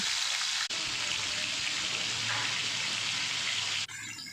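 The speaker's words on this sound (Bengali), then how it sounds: "তেল গরম হয়ে গেছে, মাছগুলোকে দিয়ে দিচ্ছি।" Katla fish pieces frying in hot oil for a Bengali curry, a loud, dense, close sizzle that holds steady throughout with brief dips at the start and end.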